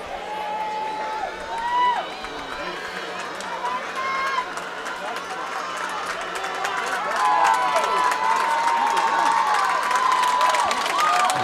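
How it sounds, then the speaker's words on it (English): A high school football crowd in Marshfield applauds its offense heading off the field, a broad wash of clapping and cheering from the stands that swells steadily, mixed with voices and a bright whistle-like tone. "Marshfield offense gets a round of applause here as they head off"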